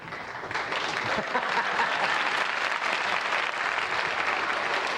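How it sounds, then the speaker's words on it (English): Steady, dense applause from a television studio audience at a late-night talk show, sustained clapping that swells after the first half second and holds evenly to the end with little else over it. "see if anybody else is going to applaud"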